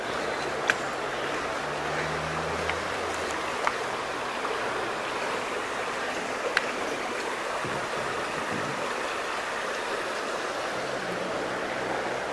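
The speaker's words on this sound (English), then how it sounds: "so this is the Ree Brook." Ree Brook, a small countryside stream in Shropshire, flowing as a steady close wash of water, continuous and even throughout with no talk over it.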